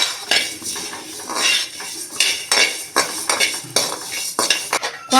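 Coriander seeds dry roasting in a pan for Tamil curry powder, stirred with a metal spoon: repeated scraping and clinking strokes against the pan, close and fairly loud, in an uneven rhythm with no talk.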